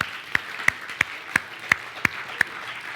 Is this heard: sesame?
no